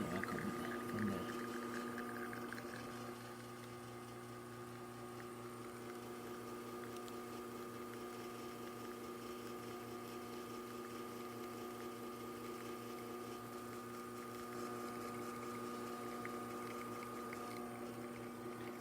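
An Alex Duetto espresso machine pulls a shot with a steady pump drone and layered mechanical hum that continue unbroken, slightly louder in the first few seconds.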